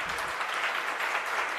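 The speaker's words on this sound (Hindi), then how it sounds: "ये बीच बीच में तो आप लोग ताली बजाते हैं ना" Audience applause during a Hindi spiritual discourse by Vidyasagar Ji Maharaj, a steady dense wash of many hands clapping at once, filling the whole short stretch without pauses.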